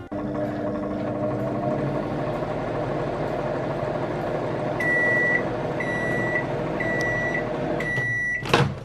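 A microwave oven hums steadily while heating an Oreo mug cake, then a series of four evenly spaced beeps signals the end, followed by a brief clunk of the door.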